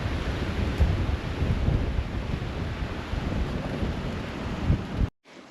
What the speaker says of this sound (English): And it's super windy at the moment. And the wind is really picking up. I hope you can hear it.